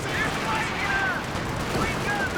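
An artillery barrage hits a machine gun team in the Company of Heroes 2 strategy game, a rumbling cluster of blasts and rattling gunfire over a couple of seconds under a commentator's voice.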